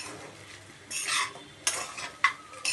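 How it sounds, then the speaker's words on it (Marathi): Sabudana khichdi being stirred in a pan after ghee goes in, with a few distinct bursts of scraping and soft sizzle between quieter stretches, close and fairly quiet. "थोडंसं तूप सोडूया परत मिक्स करूया"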